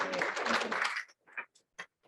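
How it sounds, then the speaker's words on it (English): Audience applause at a luncheon gala, a dense burst of many hands clapping for about a second, then trailing off into a few scattered, isolated claps. "Please give them a round of applause."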